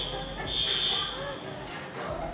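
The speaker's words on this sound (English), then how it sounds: "Fire alarm's going off." A store's fire alarm sounds as a steady high electronic tone that swells louder midway, heard under the buzz and murmur of a busy retail space.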